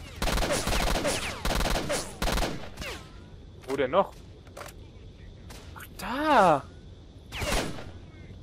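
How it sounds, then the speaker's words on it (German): Gunfire in the video game STALKER: Shadow of Chernobyl comes as a few sharp, loud shots early on, followed by quieter game effects and someone speaking briefly. "Okay, das war jetzt ein Schuss"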